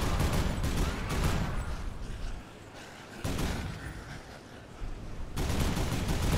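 Dense bursts of automatic gunfire from the zombie video game Dead Island, loud and close, in rapid volleys with two short lulls between them.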